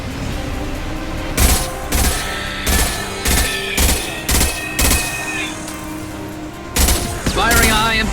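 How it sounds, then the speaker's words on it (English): Heavy, high-impact gunshots from the Mass Effect 2 video game land as loud single cracks, about nine evenly spaced shots with short gaps between them, over a low background hum and a bit of game chatter. "Firing a high-impact shot."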